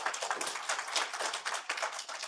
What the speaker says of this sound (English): give a round of applause to Head of Public Service